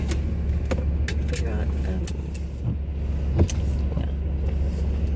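Steady low road rumble from inside a moving car, with a few light clicks and rattles; a person talks over it throughout.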